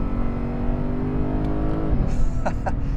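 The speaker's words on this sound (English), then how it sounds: "The ISF gets up to speed really quickly." A 2010 Lexus IS-F accelerates with a loud, close engine drone that builds and then shifts pitch partway through, as road noise continues underneath.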